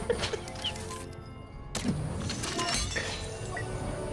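A loot crate opens in the Star Wars Battlefront 2 video game with a sharp, glassy shattering burst, a short cut to silence, then a crashing swell and a trail of bright, sparkling chimes.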